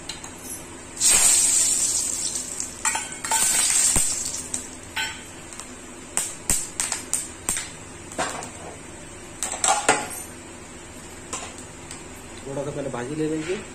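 Chillies and garlic hit hot mustard oil in a pan, giving bursts of crackling sizzle with spoon scrapes and clatter against the pan, while a voice talks over parts of it.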